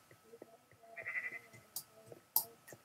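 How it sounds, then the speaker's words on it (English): Sheep in a video game bleat softly several times in quick succession, faint, short nasal calls with no talking over them. "Those are my Floloom sheep."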